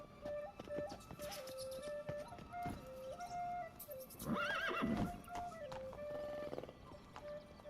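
Roach, a horse in The Witcher video game, trots with steady clip-clopping hoofbeats and gives a loud, rising whinny midway, while game music and effects play in the background.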